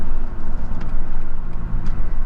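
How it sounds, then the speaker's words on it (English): A 2021 BMW M340i xDrive driven in Sport Plus gives a steady engine drone from inside the cabin, with soft airy rises as the turbo spools. "Get a nice little bit of that turbo spool."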